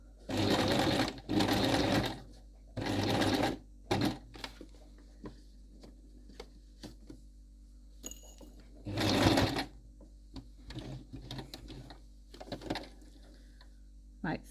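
A sewing machine runs in several short bursts to tack fabric for an underarm gusset on a coat, with quiet pauses and small handling clicks between the runs.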